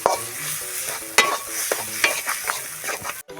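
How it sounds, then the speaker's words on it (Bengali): Potatoes and peas frying with spices in a kadai, stirred with a utensil: a soft sizzle under repeated scraping and clanking strokes, close and fairly quiet, ending abruptly. "আমি মটরশুঁটিটা আর আলুটা একসাথে মশলাটা কষে নেবো আগে"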